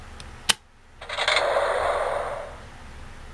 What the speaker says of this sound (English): All you have to do is just insert the key and it unlocks sounds.